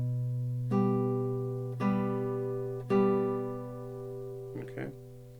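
Classical guitar in a Julio Sagreras lesson piece, with a bass note sustained while three plucked notes sound one after another about a second apart, each ringing clearly, followed by a softer brief figure, played alone and fairly quiet.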